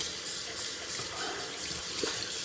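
Tap water runs steadily into a sink while a shaving brush is rinsed out, a soft, constant splashing flow heard alone.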